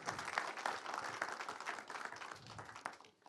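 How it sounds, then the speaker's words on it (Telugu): An audience claps for the producer at the teaser launch of the Telugu film Bhagavanthudu, a steady wash of applause filling the hall for about three seconds, faint and diffuse, before it tapers off. "గట్టిగా ఒకసారి క్లాప్స్ అండి"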